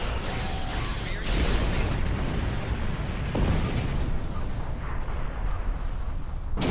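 Starship weapons fire and explosions in the space combat of Star Trek Online, a loud, continuous rumbling barrage with booming blasts and mechanical clatter, no talking.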